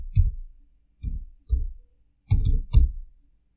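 A computer mouse clicks five times, close and crisp, as spaced single clicks with a quick pair near the end, with silence between them.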